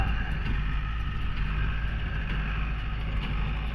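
A farm tractor carrying front weights pulls a square baler through dry hay in second gear, its engine a steady, continuous low drone with some wind noise over the microphone.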